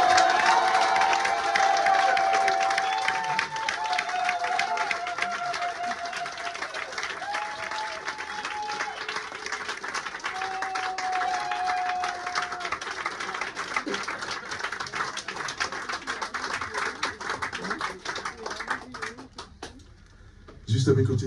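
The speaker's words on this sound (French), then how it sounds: "Mesdames et messieurs, est-ce que je voudrais vous demander une ovation?" Loud, sustained audience ovation for Maestro Christophe Camero at a live music show, dense clapping with cheering and crowd voices over roughly twenty seconds, then dying away abruptly near the end.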